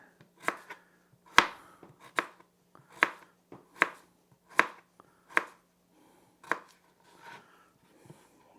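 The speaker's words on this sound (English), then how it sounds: "Then take this and cut it. I cut it thin when I'm doing this, because I want them to cook quick." Knife slicing a fresh zucchini thin on a cutting board, a steady series of about a dozen crisp, close chops with short pauses between them, no talking.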